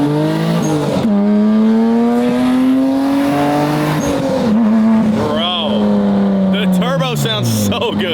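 Red Acura NSX, a barn find, runs loud and close with a rising and falling engine note of clear harmonics, and voices chatter over the engine near the end.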